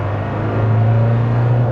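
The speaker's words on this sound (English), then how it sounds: "It is actually a pretty high revving little turbo diesel" An Ineos Grenadier's small turbo diesel engine drones steadily under hard acceleration, a loud, close, continuous rising hum from inside the cabin with no talking.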